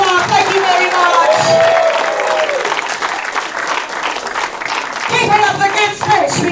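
A crowd claps and cheers loudly and continuously for several seconds at a wrestling show, with a voice calling out over the applause.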